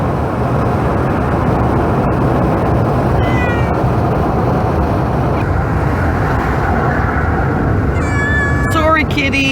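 A cat meows a few times inside an RV, the brief calls standing out near the end against a steady loud background hum.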